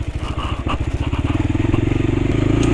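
A light motorcycle engine chugs along steadily on a ride to a beach, its rhythmic putter close and loud, settling into a faster, even thrum as the road improves.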